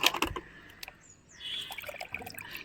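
A few soft knocks, then a quiet, trickling pour of diluted organic liquid fertilizer onto plant soil runs for a second or so.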